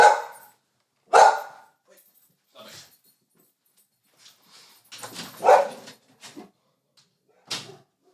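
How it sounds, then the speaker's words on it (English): Dogs at a house bark in sharp, close bursts as someone arrives at the front gate, with uneven pauses between loud yaps and a few softer whimpering sounds mixed in. "there was a bit of barking going on"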